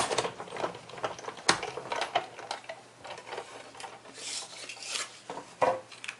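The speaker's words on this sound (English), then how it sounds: "So I'm just going to run those through and it's going to cut those out" A die-cutting machine rolls paper shapes through, giving a continuous rasping, grinding rub with scattered sharp clicks and knocks, moderately close and with no talking.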